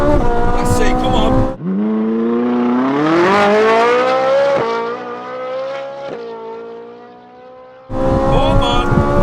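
A car launches on a quarter-mile run, its engine note climbing hard toward 9,000 RPM with manual gear changes cutting in as distinct dips and rises, loud and close throughout.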